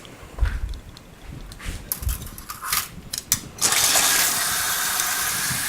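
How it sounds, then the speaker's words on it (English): Cool tap water runs from a faucet over freshly steamed shrimp in a steaming basket, a steady broadband rush that starts partway through after a few metallic clanks and handling noises at a kitchen sink. "run a little cool water over them"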